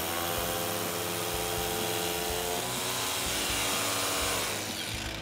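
Milwaukee M18 brushed 2-mode SDS-plus rotary hammer on an 18-volt battery, driving an RX4 8mm bit into masonry: a steady loud mechanical drone with hammering rattle that continues throughout, close to the mic, with no talking.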